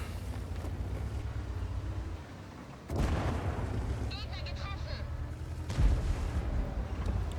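Artillery shell fire in the World of Tanks video game, with heavy booms at about three and six seconds over a steady low engine rumble, and someone talking over it.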